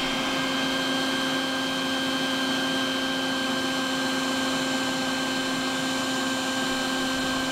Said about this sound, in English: Next up we'll use is a little wet dry vac.